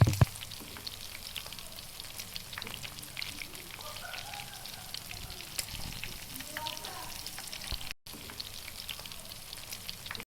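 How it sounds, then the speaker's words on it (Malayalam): Pieces of chicken broast samosa fry in hot oil, giving a steady, close sizzle and crackle that continues throughout. "ഇനി എല്ലാ പീസും നമുക്ക് പൊരിച്ചെടുക്കണം"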